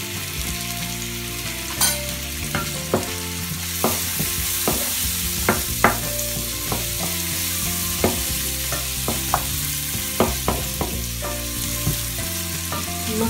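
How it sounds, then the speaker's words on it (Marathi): Prawn masala with turmeric fries on a tawa, Maharashtrian style: a continuous loud sizzle broken by frequent sharp scrapes and clinks of stirring, with no voices. "छान थोडा लाल होईपर्यंत फ्राय करून घ्यावा।"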